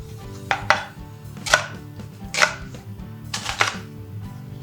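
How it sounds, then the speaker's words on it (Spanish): A knife cutting red onion into wedges on a board, making four distinct, fairly loud chops spaced about a second apart over a low background hum, with no speech. "Cortamos la cebolla morada en gajos"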